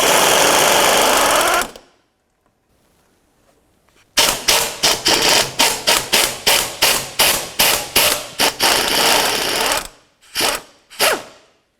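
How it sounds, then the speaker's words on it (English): Impact wrench or ratchet driving a 14mm socket to remove the transmission mount bolts on a 2004-2006 Scion xB; a burst of noise, a pause, then a rapid run of loud hammering pulses and two final short bursts. "We'll come up and remove these two mounting bolts."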